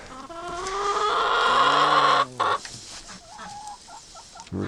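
A chicken in a farmyard coop clucks close by, a run of rising and falling calls followed by a few shorter clucks, with no talk over it.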